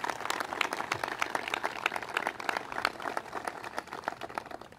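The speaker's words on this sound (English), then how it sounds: "Let's give them a round of applause." A crowd applauds at a government press event, with dense, steady clapping that carries evenly through the whole stretch at moderate distance.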